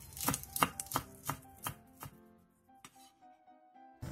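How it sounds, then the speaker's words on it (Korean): A kitchen knife slices green onion diagonally on a cutting board, with about eight crisp, evenly spaced chops close by that slow and fade toward the end, with no talking. "대파 조금도 어슷 썰어 준비해주세요."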